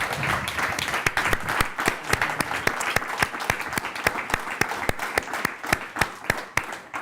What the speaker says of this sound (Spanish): Un fuerte aplauso para Ana, por favor